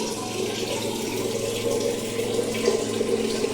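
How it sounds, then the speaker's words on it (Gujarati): Water pours steadily into a pan on the gas stove while upma is being made, a continuous close splashing gush with no talk. "આ જે 2 ગ્લાસ ને માથે આટલું પાણી નાખ્યું."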